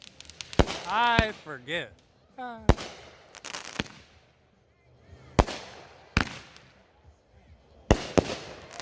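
Fort Pedro/Jabs consumer firework shots pop as sharp, separate cracks spaced a second or two apart, fairly close, with people talking briefly between bursts.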